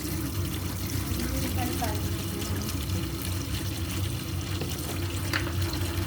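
A water tap runs steadily into a basin while mushrooms are being washed, a constant rushing, splashing flow that lasts throughout, with a voice talking over it.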